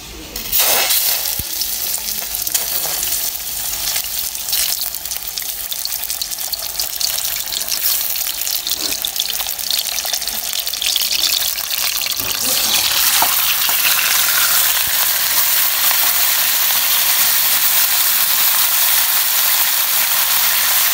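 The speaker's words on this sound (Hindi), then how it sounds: "अब हम थोड़ा सा जो है ना चिकन को फ्राई कर लेते हैं।" Chicken pieces fry in oil in a kadai with a loud, continuous sizzle and hiss. Near the start come a few clatters from stirring, and the frying grows brighter and denser toward the end, with no talking.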